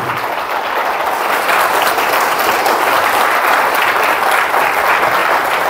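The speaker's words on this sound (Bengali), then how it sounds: "প্রত্যেককে ইন্টার মাইলাইফ পরিবার থেকে একটা জোরে হাততালি" A seated audience of distributors at a company gathering gives loud, sustained applause, a dense, even wash of clapping from many hands that holds steady from start to finish.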